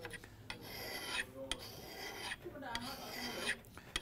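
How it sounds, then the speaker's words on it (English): A high speed steel tool bit is ground by hand, giving repeated rasping strokes in an uneven rhythm, close and moderately loud, with a voice now and then between passes. "It's actually amazing that we can grind these high-speed tool bits"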